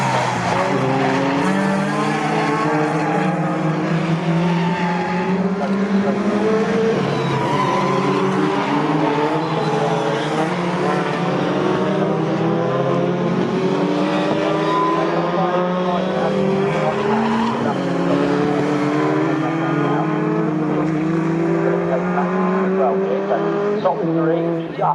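Pickup trucks race around Snetterton circuit, their engines roaring steadily as the pack runs close together and engine notes rise and fall through gear changes, with a commentator talking over the racing throughout.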